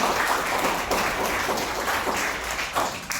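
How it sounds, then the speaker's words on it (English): Steady, fairly close applause from an audience honouring educators and parents at a book launch, a dense wash of clapping sustained throughout. "can we give them, all the educators, the parents, a round of applause for their dedication"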